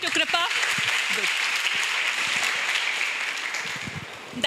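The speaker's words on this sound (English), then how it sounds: "Give a clap again to Kripa." An audience at a nursing college seminar claps steadily for several seconds, a dense, even wash of applause with a few short voice sounds at the start.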